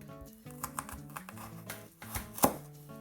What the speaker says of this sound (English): So we're just getting to the end of our mammoth carrot chopping